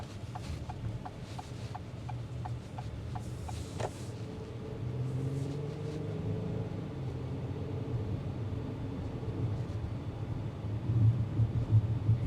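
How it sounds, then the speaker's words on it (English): A 2026 Acura MDX A-Spec SUV rolls over rough, torn-up roadworks, giving a steady low cabin rumble of tyres and suspension with a few light rhythmic clicks early on and a thump near the end. "Even going over these harsh roads with all this road work, it's still a pretty smooth ride."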